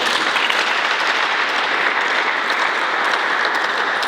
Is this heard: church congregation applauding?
yes